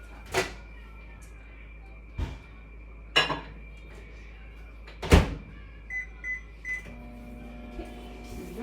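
A microwave in a home kitchen warms honey sauce in a bowl: a few sharp beeps and clicks ring out amid a low steady hum, with faint kitchen clatter.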